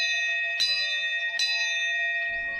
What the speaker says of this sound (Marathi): बघता बघता त्या मंदिराचे घंटा जोर जोरात वाजाक लागले